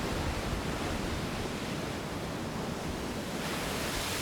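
High waves breaking on a turtle nesting beach in Oman, a continuous loud wash of surf with wind, no voices.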